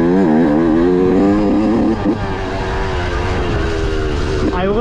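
A Yamaha YZ125 two-stroke dirt bike runs on a trail, its engine loud and close with a raspy buzz that keeps rising and falling in pitch as the throttle works, then eases briefly before pulling again.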